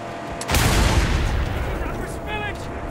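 Gunfire and an explosion go off in the Mad Max video game as a sudden loud blast that decays into rumbling noise, followed by a fainter trailing sound.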